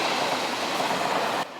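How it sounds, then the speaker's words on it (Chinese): A train rushes quickly past on Taiwan's coastal railway line in Tongxiao, Miaoli, just beyond a roadside wall, a loud, close, roaring rumble that cuts off abruptly. "火车真紧开过，甲大路敢隔一道壁。"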